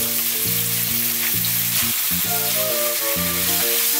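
Oil frying in a pan, a steady loud sizzle filling the whole clip, with background music running underneath and no talk.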